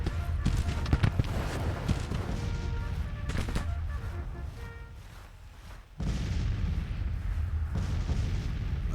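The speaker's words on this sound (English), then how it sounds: "Let the artillery finish them off." Booming artillery fire and scattered musket volleys from a Civil War strategy video game, repeated thuds rolling across the battle, briefly dropping out before resuming, with a voice talking over it.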